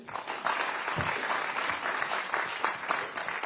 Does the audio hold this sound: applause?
yes